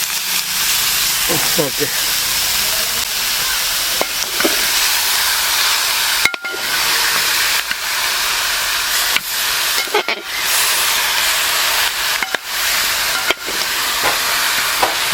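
Washed beef drops into hot garam masala in a pan for a Kerala beef roast, giving a steady loud sizzle and hiss throughout with a few scraping stirs, while a person talks briefly over it.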